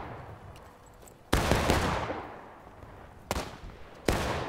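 Cannon fire in the video game War of Rights, a Civil War battle: three heavy, loud blasts with long rumbling tails, each sharp onset followed by decaying roar, with distant crackle between and no talking.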